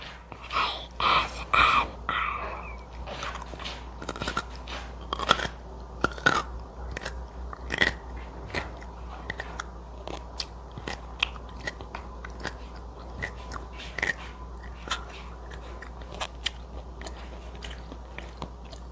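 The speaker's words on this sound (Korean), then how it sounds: "동치미를 한번 먹어보겠습니다" Someone bites and chews dongchimi, a radish water kimchi, up close, with crisp crunches and wet chewing that come thick at first and then in sparse, irregular bites, with no talking.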